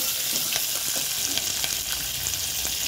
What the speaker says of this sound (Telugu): ఇంకా కొంచెం వేపుకోవాలి.